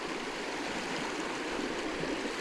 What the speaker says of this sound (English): this little creek goes from the Blackstone River further north